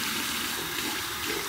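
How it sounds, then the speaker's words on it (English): A brush is rinsed under running lukewarm tap water, a loud steady broadband rush of flowing water with no break. "and I'm using warm water here, just lukewarm water"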